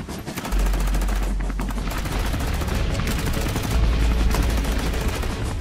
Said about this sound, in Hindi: और उन पे गोलीबारी करने लगता है।